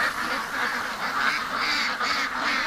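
Dense, overlapping quacking from a group of ducks near a pond, a steady close chorus of nasal calls without breaks or speech.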